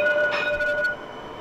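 A Métro Express train runs along its rails, giving a steady rumble with a high tonal whine that fades off partway through the short moment.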